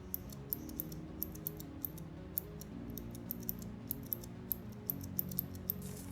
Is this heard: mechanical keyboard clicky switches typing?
yes